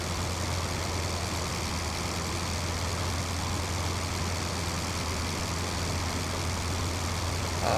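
A WWI airplane engine in the IL-2 flight game runs with a steady, loud low droning hum over a constant rumbling bed, unchanging throughout.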